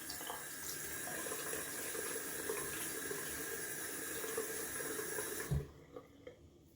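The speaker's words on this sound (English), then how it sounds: "Gonna add some cold water to the face." Cold water runs steadily from a tap into a sink during a wet shave with an aluminium single-edge razor and a boar-bristle brush, a close continuous splash and hiss that stops abruptly near the end, followed by a few small knocks.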